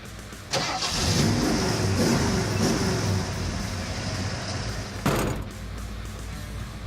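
A 1966 Ford Mustang engine cranks and fires into a loud, rumbling idle close by, blipped with a few throttle revs and a sharp burst near the end before settling back.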